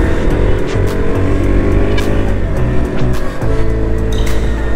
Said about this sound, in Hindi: वैसे यार बाइक की आवाज़ अभी भी काफ़ी अच्छी लग रही है मेरे को